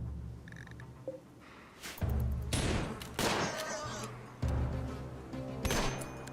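Gunfire from .303 British and .44 Winchester rifles in modded RimWorld: several sharp, loud shot bursts spaced irregularly, some in quick clusters, over a low droning game background.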